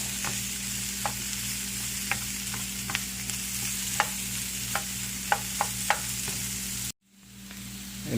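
Leftover stir fry sizzling steadily in a hot pan while a utensil stirs it, with faint clicks and scrapes over the constant frying hiss, close and alone before the sound cuts off near the end.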